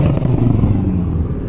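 A car engine at a Miami car meet gives a deep rumbling rev, loud and close, with a heavy low-pitched roar that holds and slowly eases off, no talk over it.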